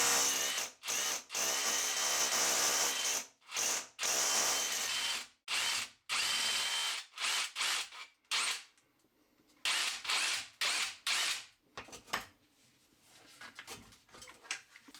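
A hammer drill bores through plaster into a brick exterior wall while fitting an outside tap, in repeated loud bursts of grinding, rattling drilling separated by brief silences, growing shorter and more intermittent toward the end.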